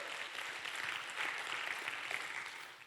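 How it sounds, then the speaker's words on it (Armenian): A church congregation claps together in a quiet, distant, sustained wash of applause with no clear individual claps. "Եկեք բարձր Տիրոջը ծափարենք։"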